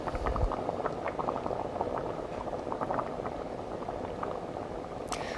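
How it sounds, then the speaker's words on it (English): Vegan chili boiling in a pot on the stovetop, with dense, continuous bubbling and popping at close range, soft and steady throughout. "You want it to bubble a whole bunch, get nice and warm"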